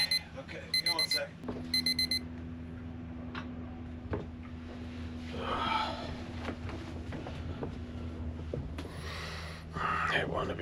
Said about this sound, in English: go get the alarm